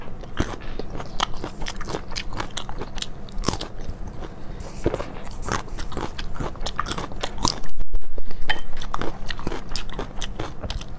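Close, loud ASMR eating, with a dense run of crunchy bites and chewing crackles repeating through the whole stretch and no talk.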